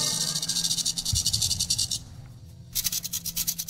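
Rattlesnake rattle as heard in old films, a rapid buzzing hiss that stops briefly and then resumes in a steady pulsing burst, fairly quiet with no voices.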